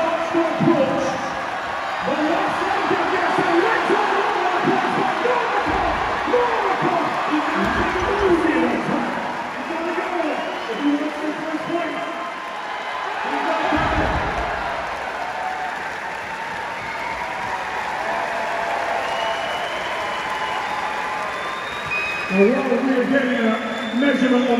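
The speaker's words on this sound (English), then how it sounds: "You can hear the crowd moving on." A large indoor crowd at a Farmers Walk strongman event at the Royal Albert Hall claps and cheers continuously, with whoops rising and falling throughout, and a commentator talks over the noise.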